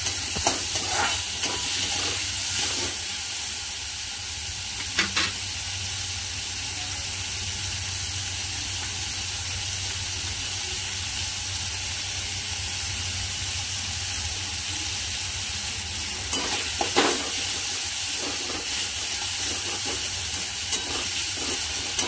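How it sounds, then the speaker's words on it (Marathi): Masala for kaju chicken fries on a gas stove, a steady moderate sizzle with occasional stirring scrapes and clinks near the start and again later, no voices. "हाच गॅसवर हे सगळं मी फ्राय करून घेते।"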